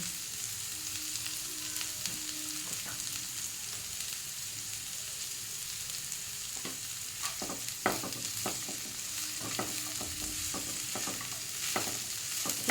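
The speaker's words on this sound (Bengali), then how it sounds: "ভালো করে হালকা করে নাড়িয়ে আমি ঢেকে রেখে দেবো যাতে তাড়াতাড়ি সেদ্ধ হয়ে যায়" Capsicum being stirred in a frying pan for chow mein: a soft continuous sizzle with intermittent scraping and clinking strokes of a utensil against the pan, close by and without voices.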